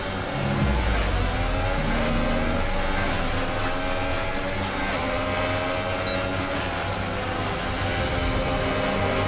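Formula 1 cars in the F1 2018 racing game run wheel to wheel into the Senna S's, engines howling loudly and continuously with shifting pitch as they brake and accelerate, with no talk.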